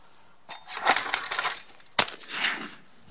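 A Fabarm XLR5 Velocity LR shotgun fires a single sharp, loud report at a clay target, preceded by a softer burst of handling noise and followed by a trailing echo.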